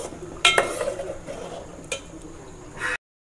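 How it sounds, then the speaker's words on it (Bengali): Vermicelli frying in ghee with bay leaves and cardamom, stirred in a pan with a few loud metallic scrapes and clinks of the spoon over a quiet background sizzle, close by. "আমি ঘিয়ের মধ্যে সিমইটাকে ভাজছি, আর 2টো তেজপাতা দিয়ে দিলাম"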